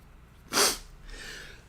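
A single sharp sneeze bursts out close by, followed by a soft exhale.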